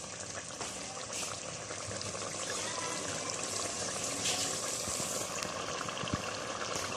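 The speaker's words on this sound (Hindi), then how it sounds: "देखिए ये मैंने पानी डाल दिया।" Water pours into a pot of cooking meat with chana dal, a steady soft rush and trickle lasting several seconds at moderate level, no voices.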